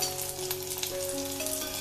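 Neyyappam frying in hot oil in a pan, a steady fine crackling sizzle, close and moderately quiet, with no voices.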